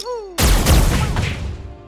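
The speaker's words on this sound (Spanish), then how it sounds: "Vale, vamos a meterle dos disparos" A sudden burst of loud, sharp video game gunfire from Mario + Rabbids erupts after a brief quiet tone, followed by echoing booms and crackling impacts for over a second.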